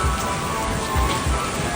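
Heavy storm rain pours down hard and close, a loud, dense roar of drops hitting surfaces that stays constant throughout, with no talking.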